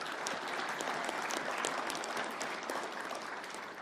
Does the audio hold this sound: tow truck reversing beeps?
no